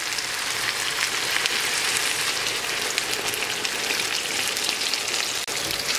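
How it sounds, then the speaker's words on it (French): Water hits a sauce for fish frying in a pan, producing a loud, dense, continuous hiss and sizzle like heavy rain that holds steady from start to finish. "Je vais rajouter de l'eau pour la sauce."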